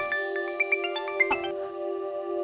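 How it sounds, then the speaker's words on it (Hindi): A phone rings with a short melodic ringtone, a quick run of bright tinkling notes that plays once and then fades into quiet room tone. "कार्की का फोन है।"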